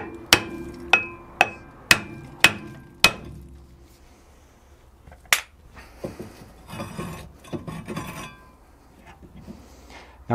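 Heavy hammer blows strike a rusted brake disc on the rear hub of an Audi A3 (8P), six loud, evenly spaced metallic bangs followed by a single later hit and scraping, rubbing sounds.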